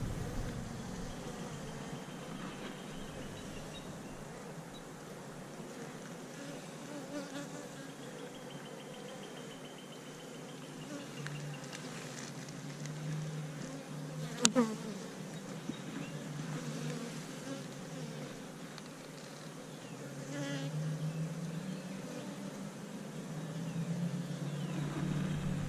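Honey bees buzz around an open white Apimaye hive as a steady, soft, continuous drone with faint background rumble.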